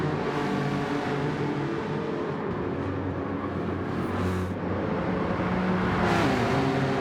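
Racing cars in Gran Turismo 7 roar side by side down a straight in a drag race, a steady loud engine drone rising as they accelerate, with a brief lull before the revs climb again.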